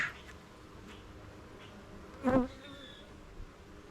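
Honey bees buzz steadily around an open beehive during a queen inspection, a continuous low drone close by with a brief louder swell as one bee passes near, and no voices.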